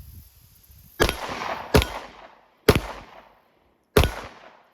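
Four loud, close gunshots from a Sig Sauer P365 FUSE pistol finishing off a magazine, irregularly spaced, each a sharp crack with a short ringing decay, and no talking.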